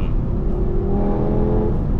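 An Audi TT RS engine revs hard and steadily for about two seconds, loud and close with a rising, sustained mechanical roar and no talking.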